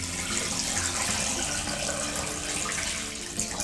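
Water poured into a pot while cooking Tangkhul-style pork, a steady splashing gush that runs through the whole stretch, close and fairly loud with no voices.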